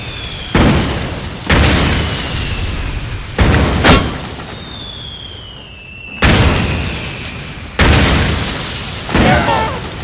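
Gunfire and explosions from the video game Metal Gear Solid 4: a string of loud booming blasts, roughly six heavy bursts over ten seconds, with a rising whistle before one and shouted voices mixed into the battle noise.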